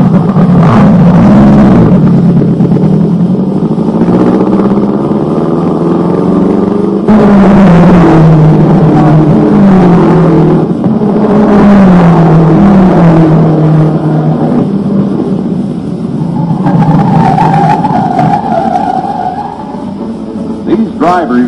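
Race cars speed past at Gingerman Raceway, their engines roaring loud and continuous with rising and falling pitch as they pass, while a voice narrates over the noise throughout.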